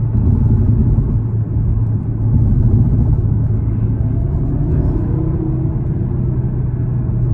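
A five-cylinder Audi TT RS with quattro all-wheel drive accelerating, heard from inside as a loud, steady low rumble and engine drone that holds throughout with little variation and no talking.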